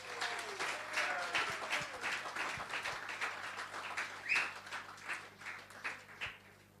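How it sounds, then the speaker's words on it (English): An audience at an India World Cup victory party claps for the Indian cricket team, a sustained, fairly distant wash of applause with a few whistles or high calls rising above it. "let's give a big applause for Indian cricket"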